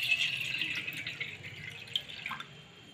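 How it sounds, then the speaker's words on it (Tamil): Water poured steadily into a bowl in a home kitchen, a soft continuous splashing stream that thins toward the end, faint and close with no talking. "இதில் நம்ம தண்ணியை ஊற்றிக்கலாம்."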